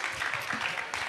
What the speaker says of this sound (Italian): vi chiedo un grande applauso per Militanza Grafica